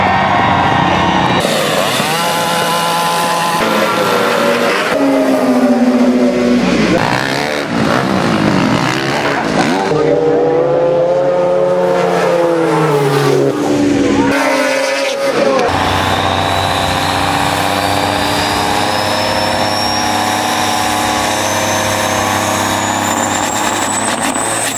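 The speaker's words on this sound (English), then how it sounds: "We just got to see some drag racing" Snowmobiles drag racing at the Hay Days event, a loud continuous high-revving engine roar with rising and falling pitch as machines accelerate past, one steadily climbing whine near the end, with crowd or announcer noise mixed in.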